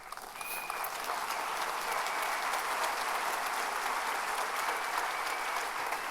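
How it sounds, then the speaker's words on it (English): A large audience at a live political talk event with Rachel Maddow and Jen Psaki applauds, a steady dense roar of clapping that stays even throughout, with no voices on top. "Yeah, she deserves your applause."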